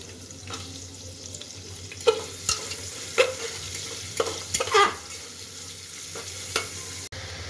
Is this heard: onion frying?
yes